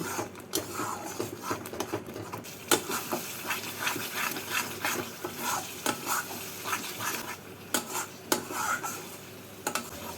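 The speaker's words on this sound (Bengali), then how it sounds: "এক স্পুন জিরে গুঁড়ো এক স্পুন ধনে গুঁড়ো এক স্পুন গোলমরিচ গুঁড়ো এবার মশলাটাকে ভেজে নিচ্ছি" Ground cumin, coriander and black pepper fry in oil for a mutton malai kofta masala, stirred steadily with a spoon; close, busy sizzling crackle punctuated by repeated sharp scrapes and clinks against the pan, with no talking.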